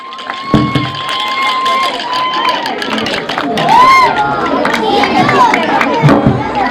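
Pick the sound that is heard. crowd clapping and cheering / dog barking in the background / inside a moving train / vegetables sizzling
crowd clapping and cheering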